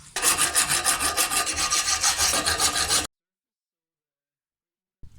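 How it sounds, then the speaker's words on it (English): Close, steady scraping of a brush or file across the metal brake carrier surface where the pads slide on a 2007 VW Passat, rapid rhythmic rasping for about three seconds, then silence. "So we're going to clean the surface, and we want to clean the surface here where the"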